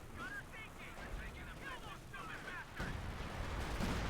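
Artillery fire in a Company of Heroes 2 match between Wehrmacht and US Forces: rough, continuous rumbling blasts keep up for several seconds and swell near the end, with a caster's voice over them.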